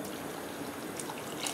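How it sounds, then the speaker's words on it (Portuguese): Water pours steadily into a pot of braised beef cooking with carrots and potatoes, a soft continuous trickle heard close up and fairly quiet, with no voices. "vamos colocar mais um pouco de água."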